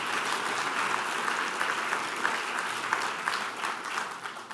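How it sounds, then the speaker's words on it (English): An audience at an education report card presentation claps for public officials, giving a steady round of applause from a moderately sized crowd that carries through the whole stretch and tapers slightly at the end. "Let's hear it for those public officials."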